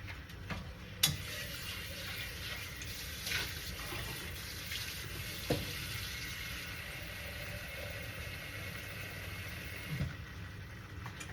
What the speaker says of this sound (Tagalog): Ilalagyan ko ng tubig yan.